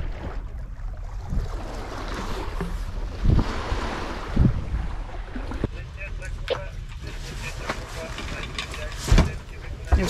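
A sailboat running wing on wing with the tide at about six knots, its hull washing through waves under steady wind roar and rushing water, with occasional louder splashes and knocks.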